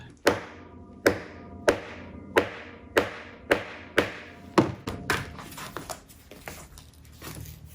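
A hammer strikes a leather punch, which could use sharpening, with about eight loud blows at an even pace, close and ringing slightly. Quicker, softer taps follow before the sound fades.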